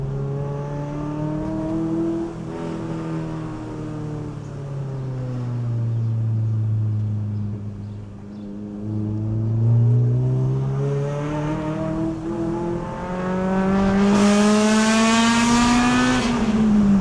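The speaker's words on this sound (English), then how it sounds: "I take off in third gear in the car, you can tell it's super flat on torque" A 2000 Honda Civic EK9 Type R pulls away in third gear, its engine droning low and steady before climbing into a louder, rising rev toward the end, heard from inside the car with no talk.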